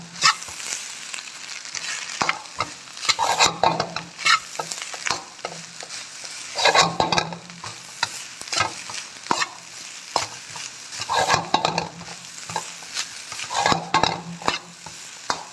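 Rice stir-fried in a pan for chicken rice, a busy run of rapid spatula scrapes and tosses over a constant bright sizzle, close and loud with bursts every second or two and no talking.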